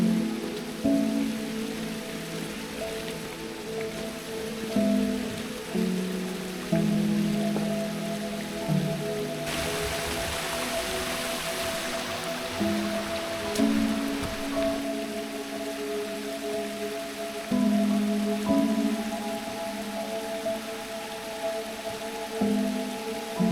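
Steady rain falling on the Milford Track in New Zealand's mountain valleys, a continuous hiss that runs throughout, with some louder swells and a faint drone of tonal sounds underneath.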